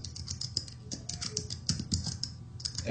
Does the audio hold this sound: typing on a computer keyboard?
yes